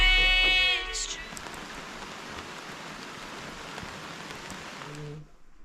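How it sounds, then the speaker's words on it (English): Steady rain falling outdoors at Mount Rainier, a dense even hiss of drops on surfaces that runs for several seconds after a brief tonal sound fades at the start, then cuts off abruptly. "Do you want to go outside and touch the rain?"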